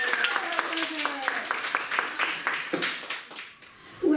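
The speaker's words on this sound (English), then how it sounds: "A great applause for her." Scattered clapping from an audience at a primary school public speaking contest, individual claps distinct and uneven, with a voice speaking over them before the clapping thins out near the end.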